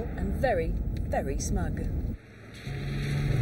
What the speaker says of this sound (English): The XK engine sounds as though it can go from 0 to 140 in top.